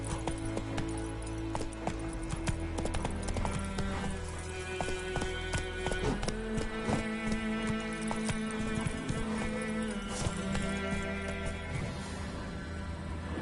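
A horse gallops in the video game The Witcher 3, with rapid rhythmic hoofbeats running continuously over layered game music and ambient sound.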